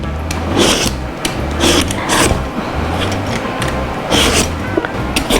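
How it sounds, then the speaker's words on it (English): A peeler scrapes the skin off an eggplant in a kitchen, a series of close, loud rasping strokes in an uneven rhythm with brief low thuds between them. "I'm peeling in my eggplant"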